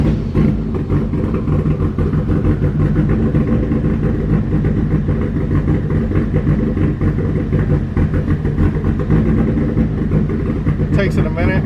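A 1991 Dodge Spirit RT with an SRT4 engine swap and a big turbo runs steadily up close, its dense low engine rumble continuous throughout, with a voice talking over it.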